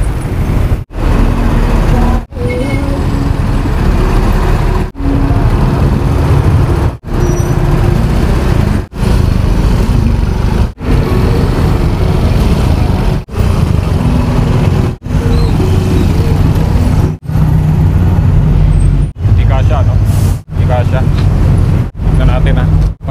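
A Metro Manila traffic jam fills the air with a dense, continuous roar of idling and creeping cars, buses and trucks, with occasional air-brake hisses. The sound is cut by brief regular dropouts.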